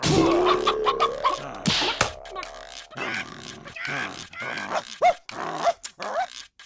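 Dog grunting, growling and giving short barks in an animated Tenali Raman story, close and loud, mixed with people talking.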